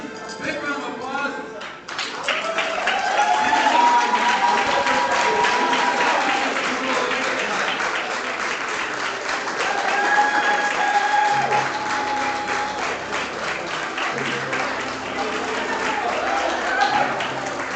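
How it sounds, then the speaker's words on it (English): Sustained audience applause at a powerlifting championship awards presentation, steady dense clapping from a crowd lasting throughout, loud and close, with a voice speaking briefly at the start. "Please, big round of applause."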